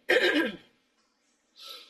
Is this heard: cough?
yes